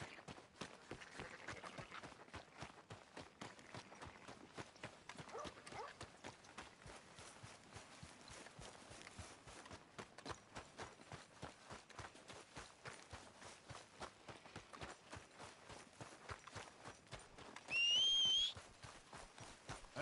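Horse hooves clip-clop in a quick, even rhythm in the video game Red Dead Redemption 2, a soft continuous trot heard alone with a brief whistle near the end.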